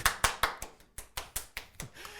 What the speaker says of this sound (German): Am Klatschen mit den Händen.